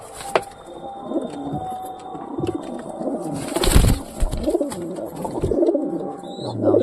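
A newly acquired pigeon coos in soft, repeated throaty bursts at close range, with light rustling and a faint steady background hum.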